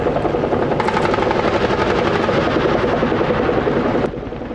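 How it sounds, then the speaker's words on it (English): A Bell AH-1 Cobra military helicopter roars loud and steady with rapid thumping rotor blades, then the sound drops noticeably near the end. "Escorting the transport helicopters during the ship-to-shore movement."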